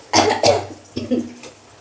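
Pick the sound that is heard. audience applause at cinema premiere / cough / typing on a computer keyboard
cough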